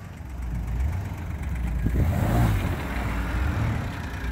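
A 2013 Smart Car's small engine idles with a low, steady hum, then revs briefly to a higher whine before dropping back toward idle, close and alone.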